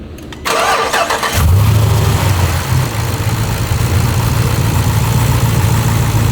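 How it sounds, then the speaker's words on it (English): A Jeep Trackhawk engine, run without its supercharger, cranks briefly, then catches and settles into a loud, steady idle close by. "We're gonna start it up without a supercharger just to hear the engine"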